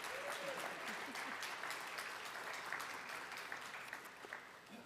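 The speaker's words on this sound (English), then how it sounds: "If students, if you would give your parents a round of applause," An audience at an education awards celebration applauds for the students' parents, a dense, sustained round of clapping from a large crowd.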